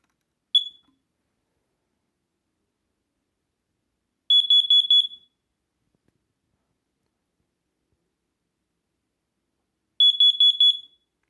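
A home smoke alarm being tested gives one short high chirp, then two separated bursts of rapid, piercing beeps, loud and close in an otherwise quiet room.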